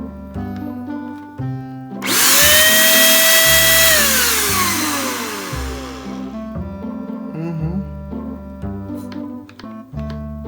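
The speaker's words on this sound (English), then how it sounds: "Wow, what a powerful blower there" An INGCO spray gun blower whirs loudly for several seconds, with a steady high rushing roar that swells up and then fades, close by and alone, after which background music carries on.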